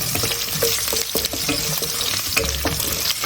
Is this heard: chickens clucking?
no